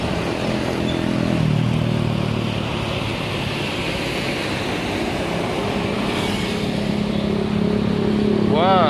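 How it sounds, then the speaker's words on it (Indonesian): A heavy tanker truck pulling a trailer rolls past on a road in Indonesia, a loud continuous engine drone and tyre roar that swells in the middle and holds steady, with a horn-like tone near the end. "Wah, truk tangki tuh baru keluar"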